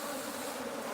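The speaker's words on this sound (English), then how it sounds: "The cause of these damn bees." Bees buzzing around a horse stall, a dense, steady drone that fills the whole moment at close range with no pauses or other sounds.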